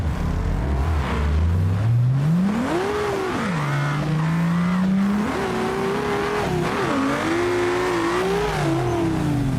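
Simulated car engine in the BeamNG driving game revving loudly and continuously, pitch climbing through gear changes, dipping and rising again over a jump, with faint tire squeal.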